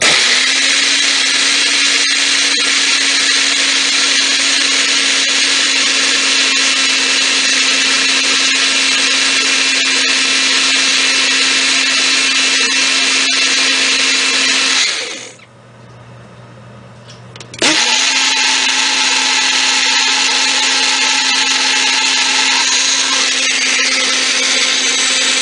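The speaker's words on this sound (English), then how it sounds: "I will put it in here along with the egg whites and then mix it up" An electric mixer whips egg whites with sea salt, giving a loud, steady motor whir that cuts out briefly partway through and then resumes at a constant pitch.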